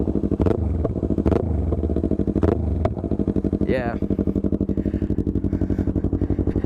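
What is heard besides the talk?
2015 Yamaha R3 motorcycle exhaust revving with pops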